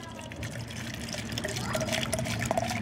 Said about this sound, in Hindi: इसके अंदर हमें पानी भर देना है